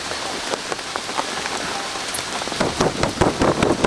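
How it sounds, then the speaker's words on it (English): Steady rain pours during the rainy season in southern Thailand, in Nakhon Si Thammarat, drumming on surfaces and thick leaves near a restaurant; a dense, close hiss of drops grows heavier toward the end, with no voices. "Rainy season, as it starts to sort of hit the south, we might find ourselves getting wet"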